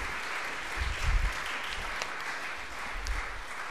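Steady applause from an audience at a talk with Eva Cantarella, a continuous wash of clapping that holds evenly throughout without voices standing out.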